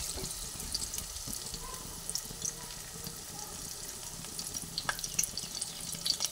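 Stuffed cabbage pieces frying in oil give a soft, steady sizzle and light crackle, faint and close, with small pops scattered throughout.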